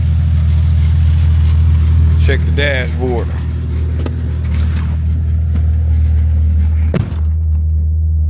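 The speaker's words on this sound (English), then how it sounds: "Went from a big old hole in the engine to running again." Engine of a 1998 Jeep Cherokee running after an engine swap and needing exhaust work, a steady loud low rumble throughout, with a person speaking briefly over it.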